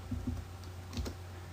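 A few quick keyboard keystrokes while a terminal install command is typed on a computer, soft clicks in two small bursts, close and fairly quiet.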